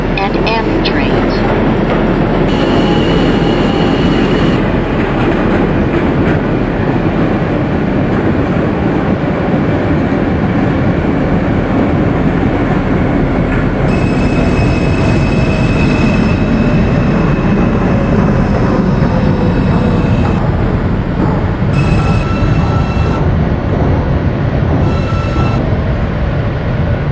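Simulated subway ride aboard an R160A eight-car J train in OpenBVE, a steady loud rumble of running wheels and motors throughout, with tonal whines and announcement chimes appearing intermittently over it.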